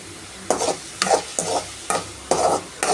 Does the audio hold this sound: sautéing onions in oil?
yes